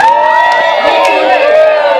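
A crowd of women ululates loudly and continuously at a UCI cycling race final in Rwanda, with several overlapping high trilling voices sustained throughout.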